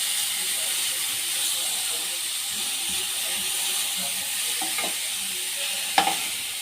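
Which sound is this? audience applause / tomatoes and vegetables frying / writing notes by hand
tomatoes and vegetables frying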